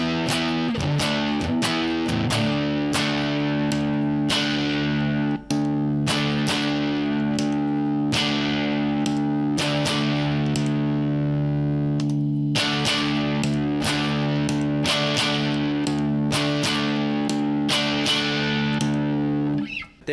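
A Squier Jaguar Classic Vibe 70s electric guitar on its neck pickup plays repeated strummed chords with a bright, slightly driven tone, steady and loud with brief gaps between strums.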